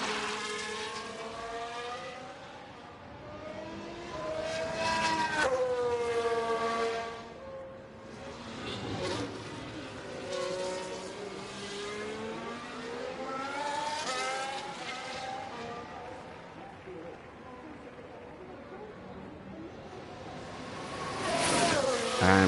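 Formula 1 cars on flying laps around Melbourne in F1 Manager 23, their high engine whine rising and falling as they pass, sustained and fairly loud with no talk over it.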